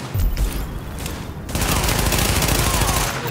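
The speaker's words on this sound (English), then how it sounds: "The escort party's taking heavy fire from the roof." Heavy gunfire from a fight against a rooftop gunner in the video game The Division: a loud, dense, continuous fusillade of rapid shots that grows denser partway through, with no talking.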